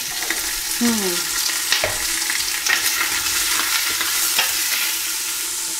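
Pork cartilage, rind and lardons fry in a pot for a pea soup, giving a loud continuous sizzle with scattered stirring scrapes, close by and without speech.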